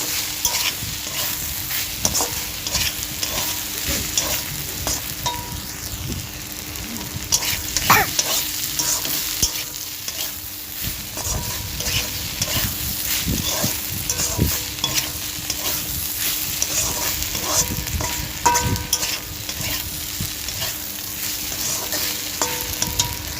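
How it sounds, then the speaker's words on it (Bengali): Water spinach being stirred in a pan with lentil dumplings frying, a steady close sizzle broken by repeated scraping and clacking stirs throughout, with no talking. "দিয়ে আমি ভালো করে আরেকটু নাড়াচাড়া করে নিয়ে এটা ঢাকা দিয়ে দেবো, যাতে বড়িগুলো একটু কলমি শাকের সাথে মিশে যায় খুব ভালো করে"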